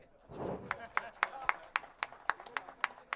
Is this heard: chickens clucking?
no